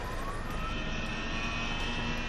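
A police helicopter flying overhead while tracking smugglers' boats along a river estuary, heard as a steady, droning engine and rotor roar with sustained tonal whine, continuous and moderately loud, with no voices.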